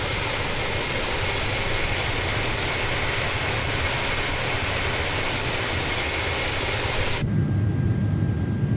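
Jet engines of an iniBuilds A330-300 airliner in a flight simulator roar as a steady, loud broadband drone that holds unchanged before shifting tone near the end, with no talk.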